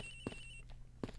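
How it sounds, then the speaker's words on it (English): A telephone rings in the Ace Attorney Investigations game, giving two short rings about three-quarters of a second apart over a faint steady tone. "It sounds like the phone is up in the flight attendant's room."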